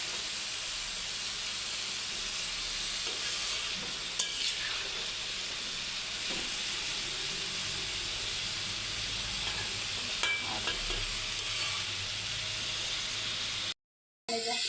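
Vegetable bhaji frying in a wok of oil previously used for fish, giving a steady, close sizzling hiss that runs almost unbroken, with a couple of faint clicks from the pan.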